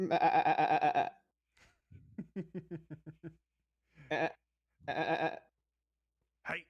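A goat in a video game village bleats several times in short, nasal, wavering calls with gaps between them, alongside a brief spoken word.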